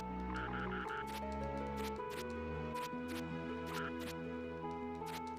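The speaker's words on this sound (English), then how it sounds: "Oh, frog!" Frog croaking in the video game Treasure Hunter G, short repeated croaks set against steady, loud in-game background music that plays throughout.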